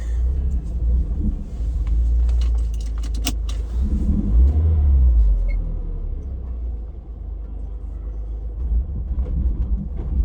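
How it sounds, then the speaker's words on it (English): A car engine idles roughly with a low, uneven rumble after a hard start, steady through the clip, with a brief metallic jingle early on. "So the car didn't want to start, and it didn't want to idle"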